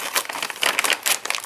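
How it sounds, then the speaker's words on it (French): A plastic bag holding parts for a 1/8-scale Eaglemoss Ecto-1 model car is unwrapped, giving a close, steady crinkling and crumpling of plastic with brief louder rustles and no voices. "Et on va déballer ce sachet"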